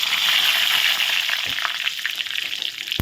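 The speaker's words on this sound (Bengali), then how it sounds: "ফোড়নটা এখন ভালো করে ভেজে নিচ্ছি" Dry red chillies, bay leaf and five-spice tempering frying in oil in a pan for a vegetarian vegetable dish, a loud, dense, continuous sizzle close up that eases slightly over time, ending with a quick knock.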